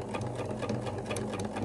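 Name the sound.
sewing machine topstitching a qamis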